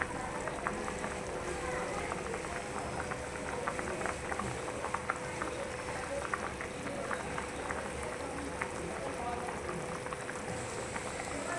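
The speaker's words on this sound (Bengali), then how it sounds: "তরকারি ফুটতে শুরু করে দিয়েছে।" Curry bubbling in a pan on the stove, a steady close, low simmering crackle with soft pops running throughout.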